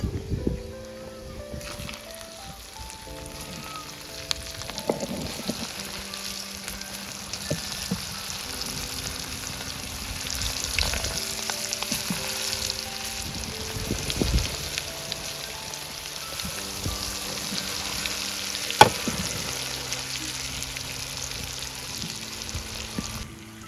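Cumin seeds, asafoetida and turmeric sizzle in hot oil for Kathiawadi-style stuffed okra, a steady close frying hiss running throughout with a tonal melody-like layer over it.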